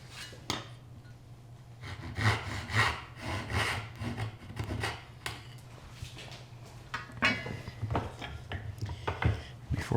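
A hand saw cuts wood for a through-wedged mortise and tenon joint, with steady back-and-forth strokes rasping close by. The strokes come in an even rhythm, alone without talk.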